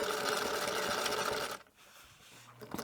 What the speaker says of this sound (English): We're going to do another 1/4 inch seam allowance. just straight stitching.